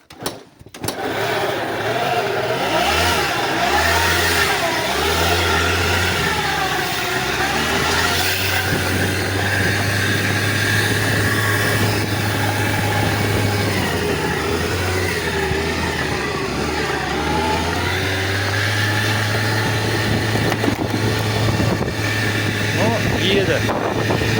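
A moped's scooter engine, which had seized, starts up and runs, its low motor drone rising and falling through several revs, loud and close with wind buffeting the microphone and a voice speaking over it.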